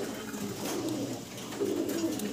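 American helmet pigeons cooing in a cage, a soft continuous rolling coo from several birds close by, steady throughout with no talking.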